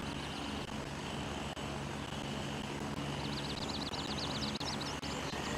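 Helicopter rotor drone in a video game, a steady loud engine hum holding throughout with a fluttering, choppy texture and no speech over it.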